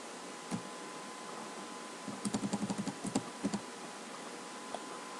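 Code being typed on a computer keyboard, a quiet, close patter of quick keystrokes in short bursts over a steady background hiss.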